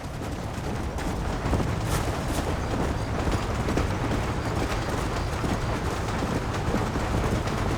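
A train runs in the Red Dead Redemption video game, a continuous loud, dense rumble and clatter that holds steady from start to finish with no talking.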